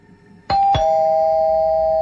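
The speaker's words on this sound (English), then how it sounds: "The doorbell rang" A doorbell rings with two quick chime strikes, then a bright tone that holds and rings on steadily. It is loud and close, with no voices.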